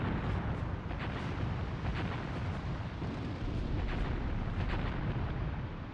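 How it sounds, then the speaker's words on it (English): Rumbling barrage of artillery strikes in an Iran-Iraq war video game, a dense continuous roar of overlapping booms and crackling blasts with no pauses, loud throughout. "Talk about devastating artillery strikes"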